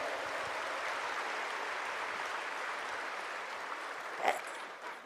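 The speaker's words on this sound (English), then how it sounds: "big round of applause to all the audience who are present here" Steady applause from a crowd, a continuous wash of clapping at moderate level that holds evenly for several seconds.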